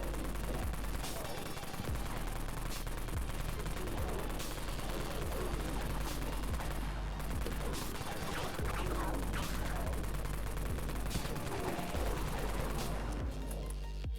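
Wraith Cannon fire in Dead Frontier: dense, rapid bursts of gunshots with crashing impacts run continuously, fairly quiet and unbroken, with game effects layered underneath.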